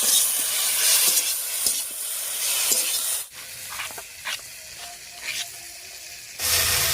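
Chili paste frying with softened vegetables in a pan for a Bengali fish curry, a steady loud sizzle broken by scraping stirring strokes, swelling into a brighter hiss at the end.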